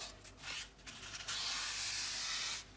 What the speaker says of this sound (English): start folding your paper towel over. And just take off that excess oil.